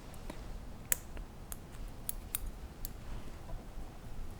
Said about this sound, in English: come in with your scissors, separate a few fibers.